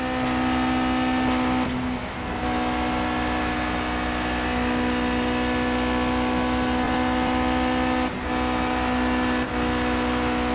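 A race car engine in the video game Project Cars holds a loud, steady, buzzing drone at high revs, with brief dips around gear changes and no talking.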